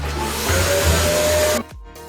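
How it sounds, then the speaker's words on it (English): A steady vacuum cleaner drone with a whining motor hum runs for about a second and a half, then cuts off abruptly. "Now we're gonna vacuum this up."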